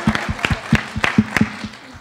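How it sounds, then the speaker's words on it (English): A few people clap sparsely at close range in a room, sharp irregular hand claps with gaps between them, with faint voices underneath. "You want to clap for her?"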